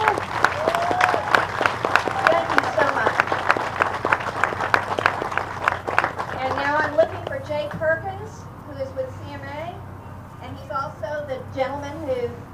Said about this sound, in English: please just give them a big round of applause